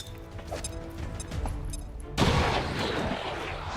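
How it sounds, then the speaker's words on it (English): A grenade detonates in the XCOM 2 tactical game: a sudden loud blast cuts in about two seconds in and leaves a rumbling, crackling tail over steady background game sound. "Throwing grenade!"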